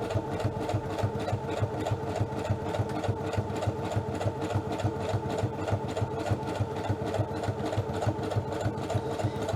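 A sewing machine stitching a card stock pocket runs steadily and close, its rapid rhythmic needle chatter and motor hum continuing without pause throughout.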